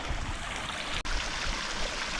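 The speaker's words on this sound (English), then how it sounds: "There's obviously water underneath here." Steady rushing water flows continuously beneath a trail in Norway, a broad even wash of sound with a brief dropout partway through.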